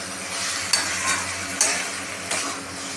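Pumpkin mixture with salt and sugar sautéing in a pan, a steady soft sizzle with a few sharp spatula scrapes and knocks against the pan, no voices.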